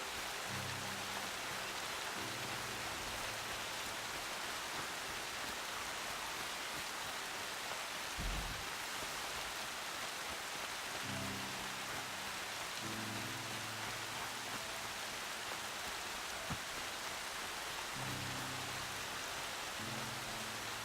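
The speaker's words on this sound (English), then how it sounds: "Such a heavy rain." Heavy rain pours steadily in the video game Horizon Zero Dawn, a dense continuous hiss with low rumbling patches and a brief thud near the middle, no talking over it.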